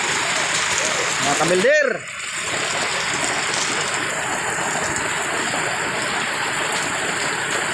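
Rain pours steadily outside a hut on a farm, a dense continuous hiss heard from inside the shelter. Someone speaks briefly over it near the start.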